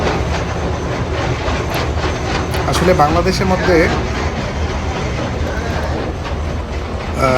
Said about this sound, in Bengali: এখন আমরা ট্রেনে উঠছি